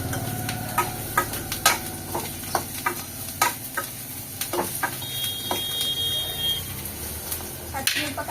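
Coconut pieces fry and get stirred in a pan, a continuous sizzle broken by repeated scraping clacks of the spoon against the pan, close and loud, with no one talking.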